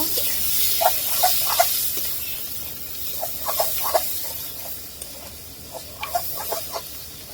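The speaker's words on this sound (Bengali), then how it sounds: "পেঁয়াজটা একটু ভেজে নিব।" Onions frying in oil in a pan with chili and salt, a soft continuous sizzle dotted with small irregular pops and crackles, close and fairly quiet, with no talking.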